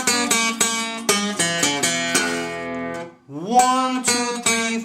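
Acoustic guitar blues lick sequence, a steady string of crisp plucked notes, a brief pause with a sliding note, then more picked notes, close and unaccompanied.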